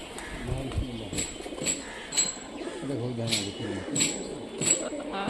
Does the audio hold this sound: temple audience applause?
no